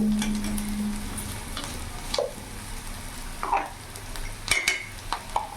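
Onion and green chillies fry in a pan with a soft, steady sizzle, while a spoon stirs and scrapes against the metal several times.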